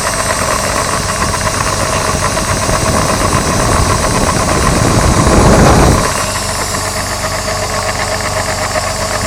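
A model ship engine room diorama runs with a steady mechanical hum and rattle, swelling louder for a few seconds near the middle before settling back to a softer continuous drone.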